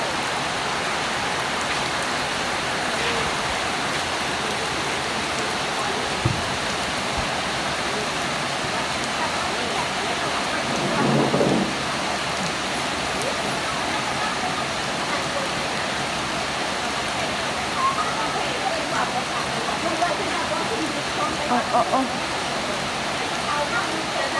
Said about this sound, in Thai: ฝนแบบนี้นะคะ เราเดินข้ามไปอีกฝั่งไม่ได้นะคะ เพราะฝนตกหนักเลยนะคะ